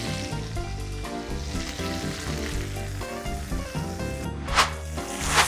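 Steak sizzles steadily in oil in a cast iron pan seasoned with salt and rosemary, a loud, dense crackle with a couple of sharper spatters near the end.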